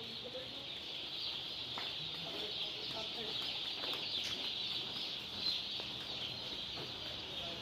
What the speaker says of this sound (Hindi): इस तरह से हम अपने फार्म में चिक्स को अंदर लाकर एक जगह पर रखते हैं